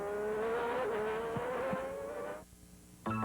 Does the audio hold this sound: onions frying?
no